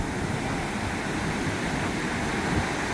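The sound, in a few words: surf waves breaking off Bali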